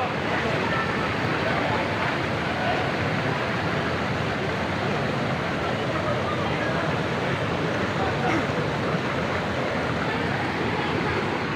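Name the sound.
river water while bamboo rafting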